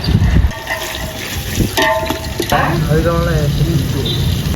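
Half a kilo of onions sizzles and crackles in hot oil in a steady frying hiss, with a person talking over it and brief clatters of a utensil.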